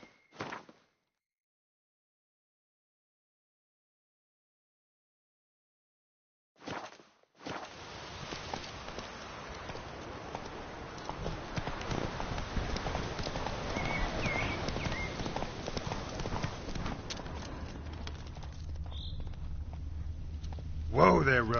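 Roach the horse walking with hooves clip-clopping in a PS4 video game, a steady rhythmic clatter that continues under game music and ambience after a short silent gap.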